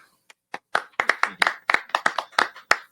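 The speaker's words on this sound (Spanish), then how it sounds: "queremos recibirle en esta primera entrega con un fuerte aplauso al señor Bolívar Ledesma" A small audience claps to welcome a meteorology office guest: a dozen or so distinct, close hand claps, sparse at first and then quickening into a brief uneven round.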